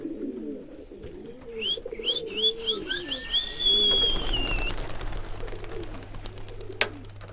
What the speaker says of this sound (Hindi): हमारे कबूतर थोड़े रेस्ट पे छोड़े हुए हमने, ये बैठे हुए